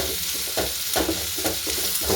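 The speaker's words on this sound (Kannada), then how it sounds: "ಜೊತೆಗೆ ಸ್ವಲ್ಪ ಉಪ್ಪು ಹಾಕ್ಕೊಂಡು ಫ್ರೈ ಮಾಡೋದ್ರಿಂದ ಈರುಳ್ಳಿ ಚೆನ್ನಾಗಿ ಉಪ್ಪು ಹಿಡಿಯುತ್ತೆ" Onions with a little salt fry in a pan for chitranna, a constant hissing sizzle broken by regular spoon-stirring scrapes about twice a second, close up and without voices.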